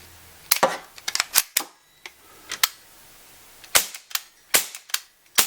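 A Gamo MP9 blowback CO2 pellet and BB airgun fires a rapid series of sharp, close, snapping shots in irregular bursts, with short gaps between them.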